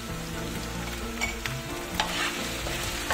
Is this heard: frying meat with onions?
yes